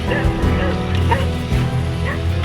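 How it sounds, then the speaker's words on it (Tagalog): A dog barks in short yips and woofs along a mountain trail near Mount Love, several quick calls close by with steady outdoor background. "May aso."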